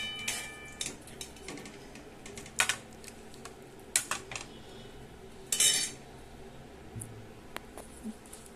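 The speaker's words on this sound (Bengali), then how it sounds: "এবার আমি একটা বাটিতে তুলে নিচ্ছি স্যুপটা।" Vegetable soup ladled into a bowl, heard as scattered close clinks and scrapes of a spoon against metal and crockery, irregular taps at varying loudness with quiet gaps between.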